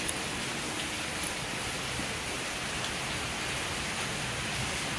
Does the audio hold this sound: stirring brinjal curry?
no